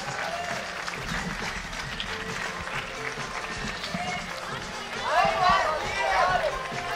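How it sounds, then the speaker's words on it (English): Crowd applause and cheering for a 20-year-old German climber at a men's lead climbing World Cup final in Imst, a steady roar under continuous commentary, with whistles and shouts swelling near the end. "And the crowd are right behind him as well for the 20-year-old German."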